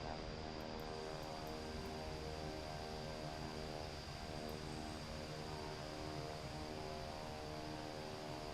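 A propeller aircraft engine at low idle in Microsoft Flight Simulator 2024, a steady, faint droning whir with a constant hum and no change in pitch throughout.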